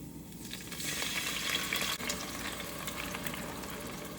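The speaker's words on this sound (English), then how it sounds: "After the garlic has started to brown, then we will add in the crushed tomatoes." Crushed tomatoes hit a pan of browned garlic in hot oil, giving a steady, soft sizzle and bubbling hiss that holds evenly throughout with no talking.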